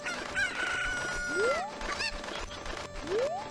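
Chickens in the video game Zelda Ocarina of Time, with repeated clucks and two rising rooster-like crowing calls over busy game ambience, fairly close and clear.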